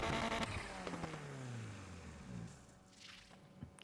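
Ford Focus RS exhaust note in a racing video game, rising and falling engine drone with quick shifts, fairly faint and heard without talk.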